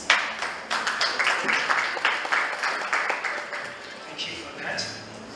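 Audience hand clapping at a student association handover and inauguration ceremony, a steady crowd applause of many overlapping claps that swells early and gradually thins out over several seconds.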